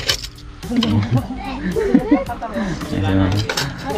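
Plates and dishes clink and clatter as people serve themselves a home meal of Filipino stews and rice. Irregular ceramic knocks and cutlery taps sound close by, with people talking throughout.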